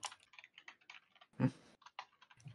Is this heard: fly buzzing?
no